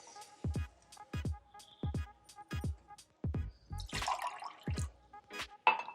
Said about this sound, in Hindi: और इसमें मैं ऐड करूँगी आधा कप पानी